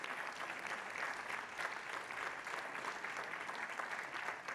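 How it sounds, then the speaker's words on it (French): A room full of people at a French public conference claps steadily, a dense and sustained round of applause with no voices standing out. "Merci, Yannis, je pense qu'on peut t'applaudir."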